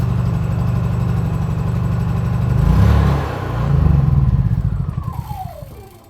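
A Honda generator engine runs with its choke engaged, a loud steady close-up drone that swells briefly and then fades toward the end.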